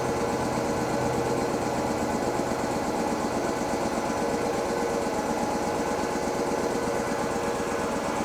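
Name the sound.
Mini Mac 400 machine running with burner and hot oil pump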